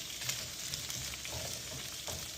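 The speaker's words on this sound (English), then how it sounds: "the zucchini is sauteed and cooked. Now I do want to caramelize it." Zucchini sautés and caramelizes in a pan with a soft, steady sizzle and light crackle that stays fairly quiet and even throughout.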